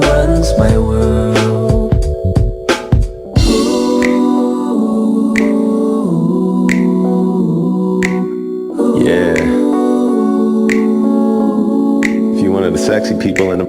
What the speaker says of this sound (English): you're probably snapping your fingers right about now